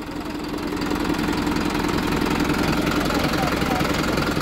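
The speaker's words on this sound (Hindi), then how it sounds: "ट्रैक्टर है, टर्बो के साथ 56-30 प्लस 12+3 UG गियरबॉक्स वाला ट्रैक्टर" A New Holland 5630 turbo tractor with four-wheel drive and a 12+3 gearbox running at a steady, loud mid-pitched drone with an even rapid throb, close and constant throughout.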